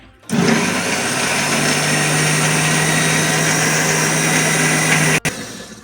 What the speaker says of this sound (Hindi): तो फाइनली जी देखें हमारी जो है ना मसाला ग्राइंड हो चुका है।